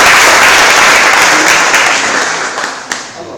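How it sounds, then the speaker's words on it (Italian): Audience applause during an indoor session, a steady dense wash of many hands clapping that starts loud and gradually fades out over a few seconds. "Un applauso."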